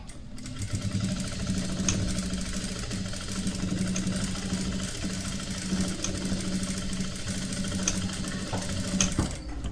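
A sewing machine stitches elastic onto a royal blue lehenga saree, running in a steady, continuous whir with a low motor hum and a few faint clicks throughout.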